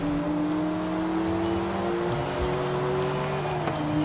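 A race car engine holds a steady high whine at full throttle in the Forza Horizon 5 racing game, its pitch sustained and loud throughout with a brief shift partway.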